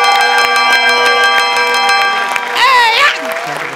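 A bell rings on a comedy show stage, its sustained ringing tones struck repeatedly for about two and a half seconds before a brief swooping, voice-like burst and a quieter tail.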